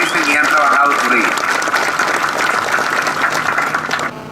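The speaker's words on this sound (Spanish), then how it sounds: "Un aplauso para ustedes" Applause from a crowd gathered for a road inauguration, a steady dense wash of clapping lasting several seconds, with a voice speaking briefly at the start.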